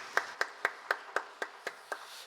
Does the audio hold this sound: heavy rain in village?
no